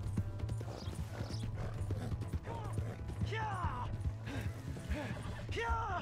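Horse hooves clip-clopping in the Red Dead Redemption 2 game world, a steady rhythmic patter under a constant low engine-like hum, with voices and whinny-like calls over it.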